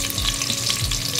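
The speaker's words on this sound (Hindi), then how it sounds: "अब मैं इसमें प्याज डाल दूँगी, ये एक दरमियाने साइज का प्याज है," A medium-sized onion frying in a pan for bottle gourd dal curry, a steady close hiss and crackle of sizzling oil with soft stirring, no talk.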